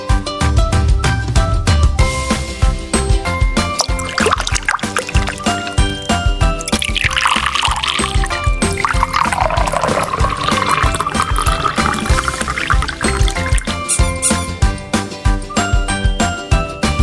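In a cartoon animation scene of a chubby orange cat watering plants, water pours and splashes continuously over busy, tinkling background music that plays throughout.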